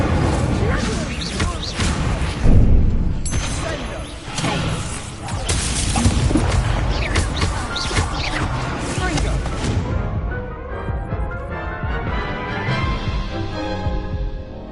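Explosive fire spells cast in the video game Hogwarts Legacy burst in rapid succession, loud whooshing blasts and crashing impacts layered densely with game music, then fading into a quieter ringing tail.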